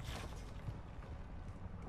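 A door creaks open in Call of Duty MWII, a low groaning mechanical creak lasting under two seconds, fairly close.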